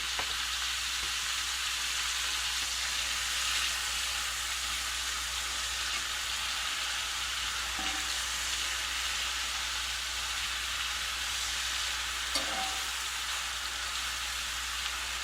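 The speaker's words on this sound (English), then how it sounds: "Just dump these peppers and mushrooms in here and saute these babies up." Peppers and chanterelle mushrooms sautéing in a hot pan, giving a continuous, even sizzle that holds steady for the whole stretch, with a couple of faint clinks partway through and no talking.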